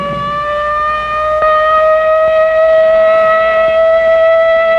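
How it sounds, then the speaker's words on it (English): A civil defense air raid siren from the 1950s atomic war era wails steadily at a constant pitch, loud and sustained throughout with no speech. "But tomorrow, this siren may mean the real thing."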